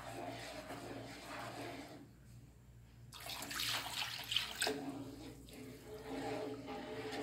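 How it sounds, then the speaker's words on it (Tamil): Milk trickles gradually into a pan of Tirunelveli-style wheat halwa as it is stirred, a soft close liquid hiss that swells into a louder pour midway, then settles into a steady quieter stream. "இப்போ பாலை வந்து கொஞ்சம் கொஞ்சமாக நம்ம ஆட் பண்ண போகிறோம்"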